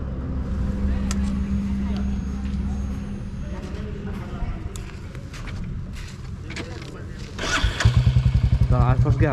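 A motorcycle engine cranks and fires into a loud, close idle on a long ride through Rajasthan toward Gujarat. It comes after a stretch of engine and road noise with people talking nearby.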